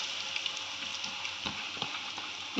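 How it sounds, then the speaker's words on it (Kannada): Ground masala paste fries in a hot pan with a steady, close sizzle, broken by faint stirring scrapes. "ನೋಡಿ, ನಾವೇನು ಮಿಕ್ಸಿ ಮಾಡಿ ತೊಗೊಂಡಿದ್ವಲ್ವ ಅದನ್ನ ಇವಾಗ ಇದರಲ್ಲಿ ಹಾಕ್ಕೊಳ್ಳೋಣ."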